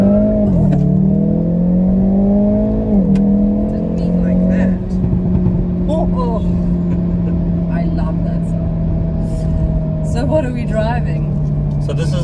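Engine of a facelifted Hyundai i30 N heard from inside the car, revving up with rising pitch in the first seconds, then settling into a loud, steady drone as it keeps driving.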